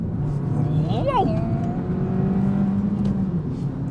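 Suzuki Swift Sport engine revving hard on winding roads, a steady mid-level drone that climbs and falls with gear changes, running under speech throughout.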